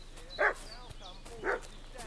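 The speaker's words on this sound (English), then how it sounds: "What's that dog making such a fuss about?" A dog barks twice in the video game Kingdom Come Deliverance 2, two evenly spaced mid-distance barks over a quiet ambient background.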